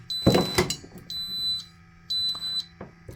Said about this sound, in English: you notice the alarm's going off, and it was a little annoying